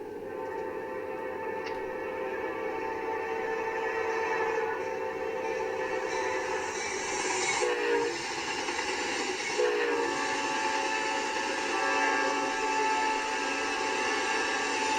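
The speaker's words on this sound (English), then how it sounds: "Oh, I hear Amtrak coming up to Fairport." Amtrak passenger train in a multiplayer train simulator game, rumbling steadily past a station with two short horn blasts partway through, loud and continuous without talk.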